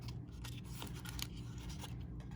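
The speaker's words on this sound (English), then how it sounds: "It's like impossible to get the scissors in there." Scissors snip steadily at a tightly packaged 1996 Fleer baseball card pack, a run of close, crisp cutting sounds with no voices.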